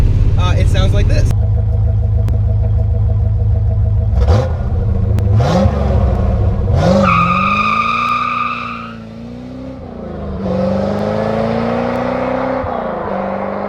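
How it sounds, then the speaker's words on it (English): A C4 Corvette with an aftermarket exhaust revs and does a short burnout on brand-new Nitto tires, its loud engine rising and falling through several sharp revs, with tire squeal and a droning exhaust tone near the end. "And if you want to do a small burnout with my brand new Nitto tires,"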